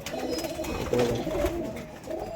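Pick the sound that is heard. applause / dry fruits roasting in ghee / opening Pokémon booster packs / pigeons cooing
pigeons cooing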